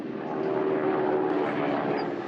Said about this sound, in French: un avion, le Lysander, capable de décoller et d'atterrir sur un petit terrain